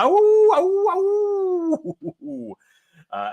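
A person gives a long wolf-like howl, a human voice imitating a wolf pack cry at close range and loud, sliding and wavering, followed by a few shorter yelping howls and a brief pause.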